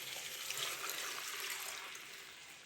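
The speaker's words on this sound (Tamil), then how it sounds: "இதுக்குள்ளே கொஞ்சம் தண்ணி விட்டு அப்படியே கலக்கி போட்டு இதுக்குள்ளே ஊற்ற போகிறோம்" A steady stream of water pours and splashes into a cooking pot for a fish curry, a soft hissing flow that gently tapers off. No voices.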